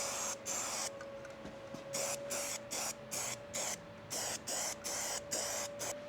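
Spray paint cans hissing in short, repeated bursts while repainting an LMTV military truck, with brief pauses between passes and a steady tonal hum underneath.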